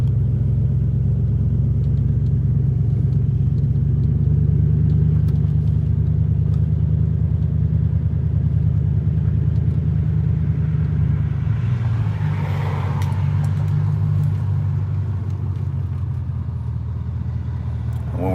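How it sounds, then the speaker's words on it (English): A car drives steadily through a Detroit neighborhood with a continuous low engine and road rumble heard from inside, loud and unbroken throughout. "When we're driving through the community"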